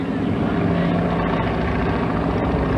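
A stunt plane's piston engine and propeller drone steadily and loudly at an airshow, the broad roar holding constant throughout with no break.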